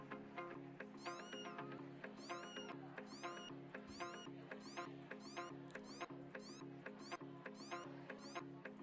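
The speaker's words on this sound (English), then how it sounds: "Did you hear that little cat mew?" A small cat mews again and again in short, high, quick calls, faint and low in level over a steady tonal background hum.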